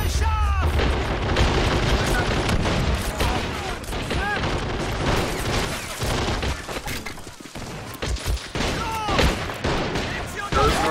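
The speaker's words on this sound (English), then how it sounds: "I hear some type of tank." Dense battle noise from the Men of War Assault Squad 2 video game, with a tank among it: continuous booms and gunfire under a steady rumble, loud and close, with voices talking over it.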